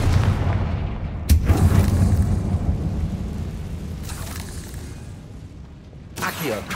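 Booming blasts from the Confringo fire spell in Hogwarts Legacy, a loud explosive hit followed by rumbling debris and later bursts, with game sound and a voice mixed in.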